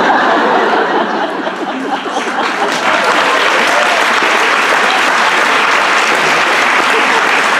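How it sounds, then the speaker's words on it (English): Loud, sustained audience clapping fills the room without letup, with scattered chuckles and murmurs from the crowd mixed in. "I don't know what you're clapping for"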